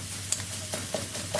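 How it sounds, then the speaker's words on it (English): A spatula scrapes and chops egg and bacon in a frying pan for a chili egg and bacon fried rice, giving a few soft taps over a steady low sizzle. "So now I can start just chopping that into little bits using my spatula."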